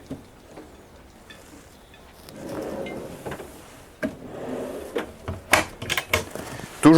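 Hidden drawers in the galley of a Jeanneau Velasco 37F boat sliding open and shut, a run of soft wooden rolls followed by sharp knocks and clicks that grow denser toward the end.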